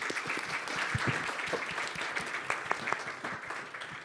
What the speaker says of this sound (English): Okay, well, big round of applause.